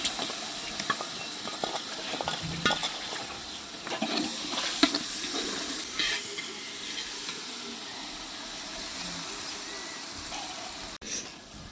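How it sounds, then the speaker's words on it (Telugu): Biryani masala and ginger garlic paste frying and being stirred in a pan, a steady close sizzle with occasional scraping, no voices. "బిర్యానీ మసాలా, అల్లం వెల్లుల్లి పేస్ట్ వేస్తున్నాం."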